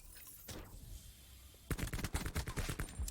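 Rapid gunfire from a Call of Duty gunfight in a pro league Control match: a single loud report, then dense bursts of automatic shots, close and crisp.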